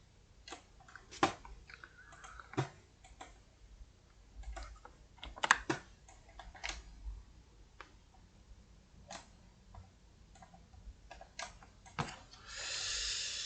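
A computer keyboard is tapped in scattered, sparse clicks for a screen-capture shortcut, close and fairly quiet with gaps between keystrokes, and a soft rushing noise rises at the end.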